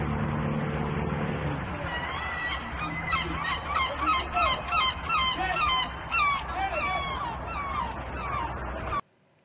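Seagulls call in a loud, dense chorus of honking, squawking cries that repeat continuously for several seconds over a low rumbling background, then cut off abruptly.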